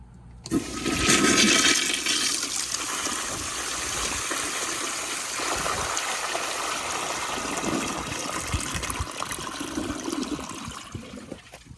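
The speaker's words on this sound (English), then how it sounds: "I think it should be enough to flush it." A 2000 American Standard Colony toilet on a flushometer flushes with a loud rushing gush of water that settles into a long steady swirling stream and then tapers off to a trickle.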